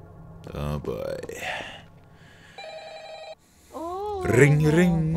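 In a Freddy Fazbear's Pizza horror video game, a telephone gives a short, steady electronic ring between bursts of excited talking and a gasp.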